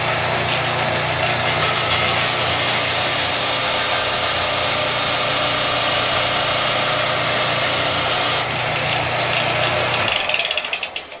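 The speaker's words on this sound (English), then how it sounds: "Power tools can be your friend." Power tool grinding down a wooden rudder part for a Tiger Moth being rebuilt as a Stampe SV4, a loud, steady high-pitched whine running continuously for about ten seconds before cutting off.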